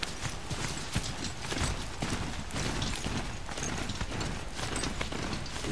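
A mechanical steed walks in the video game Horizon Zero Dawn, its hooves making steady clip-clop footfalls with metallic clanks, heard close and fairly loud against a dense layer of game ambience.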